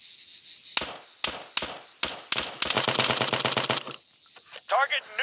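Gunfire in ARMA III: several sharp single shots spaced out at first, then a sustained rapid automatic burst, followed by a short radio-style voice over a quieter background.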